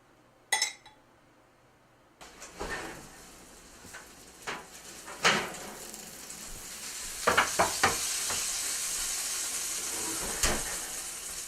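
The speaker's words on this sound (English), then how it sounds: "So we'll just mix this breadcrumb mixture together." Breadcrumb mixture with granulated garlic stirred together in a bowl, giving a soft, steady crumbly rustle with scattered clinks and taps of utensil against the dish, close and fairly quiet.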